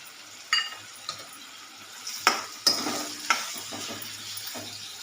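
Onions cooking with salt and turmeric in a pan for an egg curry, a soft low sizzle with a few sharp spoon stirs and scrapes standing out.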